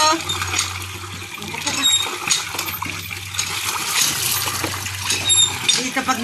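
Water is poured and splashes as feet are washed at a hand pump outdoors, with a steady splattering and trickle while people talk nearby.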